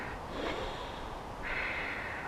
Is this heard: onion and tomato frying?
no